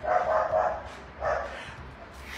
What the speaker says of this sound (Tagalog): isa pa ba, may aso